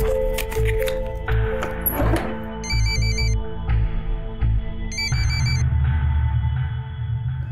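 A telephone rings in an indoor domestic scene from a crime drama television serial: two short bursts of a chirping electronic ringtone over a low background hum.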